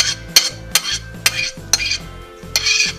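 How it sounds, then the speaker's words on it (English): A metal spoon scrapes and presses olallieberry pulp through a fine sieve, giving five sharp, close clinks at a steady pace over a soft rubbing scrape, with no voices. "And then you just take a spoon and you push until you feel like you've got all the juice out."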